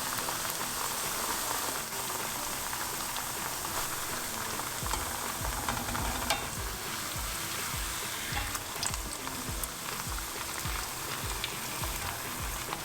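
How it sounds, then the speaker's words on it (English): Methi puri frying in a pan gives a steady, dense sizzle that runs unbroken throughout, with faint scrapes of a spoon now and then and no talking. "Here, I'm going to give you the spoon so you can fry it."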